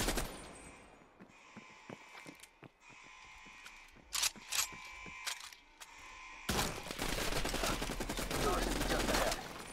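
Rapid hip-fired gunfire in Call of Duty Black Ops Cold War, scattered close bursts and single shots with mechanical clicks, then a sustained loud volley toward the end.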